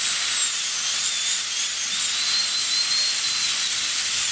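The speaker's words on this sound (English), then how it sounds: "we're just going through each one of these, and we're keeping the burr fairly straight" A high-speed dental drill burr cuts a tooth for an inlay preparation. It gives a continuous piercing whine close up that shifts slightly in pitch as it works, with no talking.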